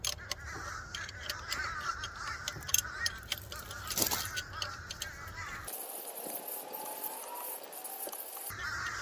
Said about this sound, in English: I know y'all hear these birds